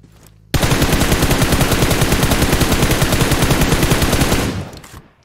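Rapid gunfire in the mobile shooter PUBG Mobile, a loud, dense burst of shots lasting about four seconds, close and alone with no talk.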